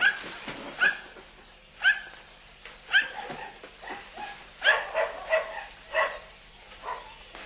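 A German shepherd barks and yips in a rapid, uneven string of sharp calls mixed with whimpers, fairly close and alone, with only faint background hum between the barks.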